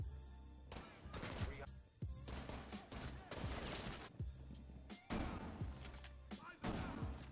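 Rapid bursts of SMG-11 submachine gun fire in Rainbow Six Siege, loud and close, in several clusters separated by brief pauses, with heavy low thumps and a player's voice occasionally heard over the shooting.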